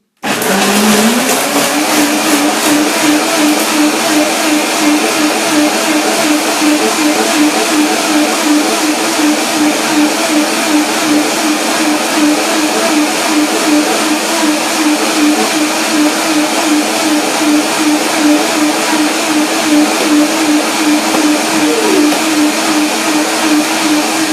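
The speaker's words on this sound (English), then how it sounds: "Now the blender dance, and let's see." A blender runs continuously while blending raw vegan sorrel soup, with a loud, steady whirring motor whine that spins up at the start and holds for over twenty seconds, close and alone.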